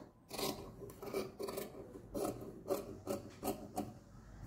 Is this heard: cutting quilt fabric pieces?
yes